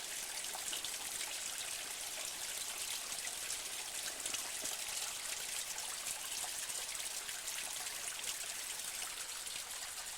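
Steady, close rush of a small waterfall and stream splashing through a narrow gorge in Chmeľová gorge, Kopytovská valley; continuous broadband water noise with no voices.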